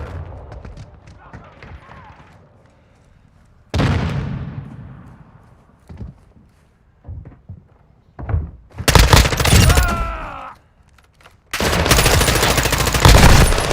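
Bursts of rapid automatic gunfire in a shooter video game, loud volleys separated by quieter stretches, with a player talking in between.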